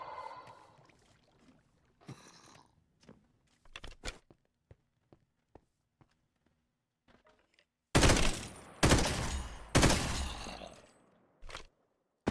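Video game gunfire in a horror Minecraft mod: scattered sharp shots early on, then a run of loud, dense bursts of rapid fire, with quiet gaps between them.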